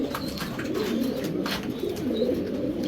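Racing pigeons, including a hen, coo in soft repeated throaty phrases close by, with a few faint chirps in the background.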